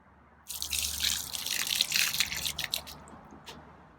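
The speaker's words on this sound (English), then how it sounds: "I'm actually going to toss the water in the plants." Water is tossed from a container onto plants, a sudden close splash that breaks into scattered drips and patters before fading within a few seconds.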